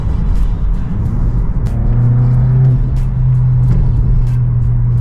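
A straight-piped Volkswagen GTI pulls hard in third gear, its exhaust a loud, continuous droning roar whose pitch climbs steadily as revs build, with brief shift-like breaks, close up and with no talking.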